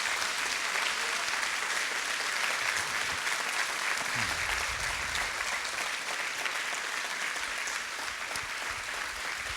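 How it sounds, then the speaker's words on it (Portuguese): A church congregation at a finance workshop led by a pastor applauds to God in a dense, steady wash of clapping that holds for nearly ten seconds, with low rumbling underneath. "dê o melhor aplauso que você pode dar a Deus"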